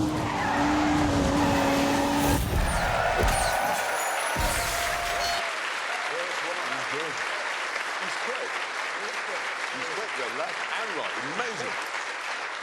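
BMW M2 taken fast through a 90-degree left corner on a test track, a loud engine note with tire noise for a few seconds, then a hard cut to a broad applause-like roar from a crowd that continues to the end.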